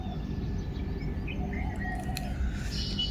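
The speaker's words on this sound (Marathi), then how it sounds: "पक्ष्यांचा आवाज" Birds chirping on a cool, breezy morning: scattered small tweets and calls, faint against a steady outdoor hum.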